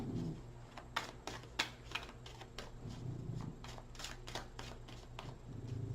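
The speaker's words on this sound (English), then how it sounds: "Off the top of the deck, one more shuffle." Deck of tarot cards being shuffled, a quick series of crisp riffling flicks and taps with a couple of sharper snaps, close and fairly quiet over a low background hum.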